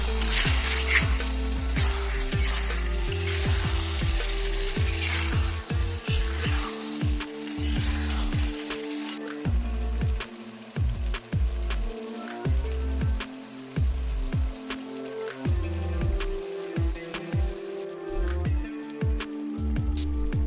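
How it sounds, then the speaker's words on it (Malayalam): Beef roast being stirred in a pan with fresh coriander leaves, restaurant style: a steady wet squish and sizzle with repeated scraping strokes of the spoon, close and moderately loud, running throughout. "അപ്പം മല്ലിയില ആഡ് ചെയ്തിട്ട് നമുക്ക് നന്നായി ഇളക്കിയെടുക്കാം."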